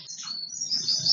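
An Oriental magpie robin in a breeding aviary gives a short, bright burst of high chirping song, clear and close against a faint low hum.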